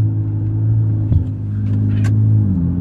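Car in economy mode under full throttle, giving a steady, subdued low engine rumble that barely rises, heard close from inside the cabin, with no talking.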